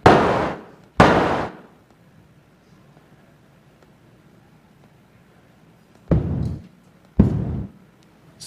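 Synthesized explosions made from filtered white noise with the Web Audio API: four sharp bursts, each decaying quickly, in two pairs separated by a long quiet gap, like distant cannon fire.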